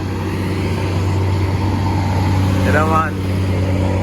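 A clean truck climbing Jamaica's Winston Jones Highway, a steady low engine drone throughout, with a brief spoken voice partway through.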